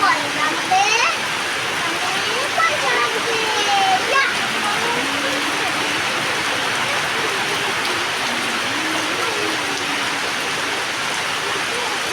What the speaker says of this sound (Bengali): দেখো কেমন ঝমঝম ঝমঝম করে বৃষ্টি পড়ে